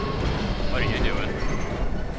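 Steady rumbling rail noise from a train ride in the video game Half-Life 2, continuous low clatter with a brief squealing tone partway through, loud and close throughout.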